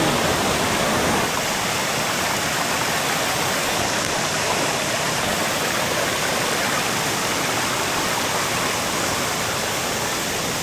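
Bulawan Falls, a waterfall, roars as a loud, dense, unbroken rush of falling water that fills the whole stretch without pause, close by and with no voices.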